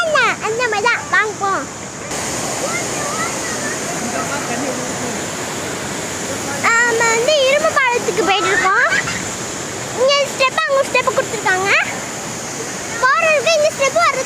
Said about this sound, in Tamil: அங்கே பாருங்க அருவி அங்கே ஓடுது